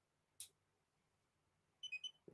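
A barcode scanner in a comic collection app gives a short run of quick electronic beeps, faint in a quiet room, after a brief earlier click.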